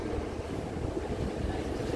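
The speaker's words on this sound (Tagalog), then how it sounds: "Sa barko na naman ako, nakasakay na naman." Steady low rumble of a ship's engine mixed with waves and wind while aboard a vessel docked at the pier in Abra de Ilog, Mindoro, a continuous broadband wash with no speech.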